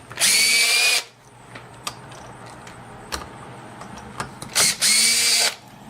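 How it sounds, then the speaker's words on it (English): Close, loud whine of a power drill backing screws out of a door deadbolt receiver, one long burst, a quieter stretch with small clicks, then two more bursts to finish. "So the only way we can do that is by removing the screws."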